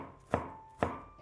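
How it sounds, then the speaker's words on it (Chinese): A knife chops peeled garlic into small pieces with three sharp, evenly spaced strikes, close and crisp, with no voices. "大蒜去皮之后，先给它切成小块"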